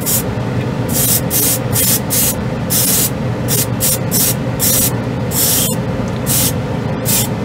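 Airbrush spraying a final coat of white scale-model paint, a loud close hiss broken into repeated short bursts of roughly half a second to a second each, with no voices.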